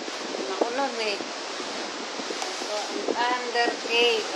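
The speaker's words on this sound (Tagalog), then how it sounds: "Ayan, lakas ng alon." Strong ocean waves surge at Thunder Cave on Cape D'Aguilar, a steady broadband roar of crashing surf throughout, with someone talking over it at intervals.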